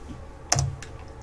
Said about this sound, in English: So I'll type my use command, copy and paste this.